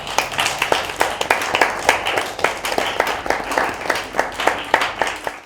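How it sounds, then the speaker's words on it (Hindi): A group of children claps for themselves after singing, in steady rhythmic unison beats that hold a regular pulse throughout at moderate loudness. "आप सब अपने लिए भरपूर तालियां बजाएं"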